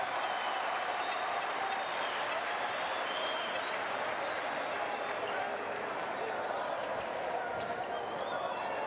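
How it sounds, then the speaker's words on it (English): Applause from a basketball crowd at a Cuba versus Puerto Rico FIBA World Cup qualifier, dense sustained clapping and crowd noise filling the arena with a few sneaker squeaks, commentary faint underneath. "the crowd getting into it"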